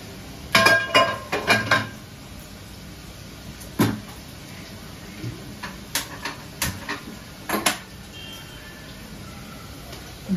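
A home window is opened with a series of sharp clicks, knocks and rattles from the latch and frame, bunched in bursts over a quiet indoor background.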